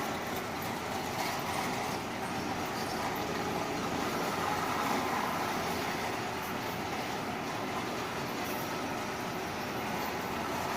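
A continuous, faint whirring rumble of a small Marx or Lionel model train running along its track under a hand controller, steady throughout with no voices.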